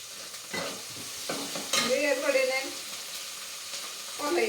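Nellore-style fish curry with onion and tomato sizzles in a pan while a spoon stirs and scrapes, faint and close, with a few sharp clinks and a brief bird-like chirp.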